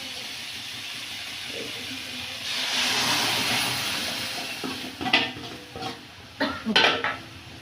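Boiled mung dal is stirred into a pan of simmering fish head and cauliflower curry, giving a soft steamy sizzle that swells midway, followed by several close clinks and scrapes of a spoon against the pan.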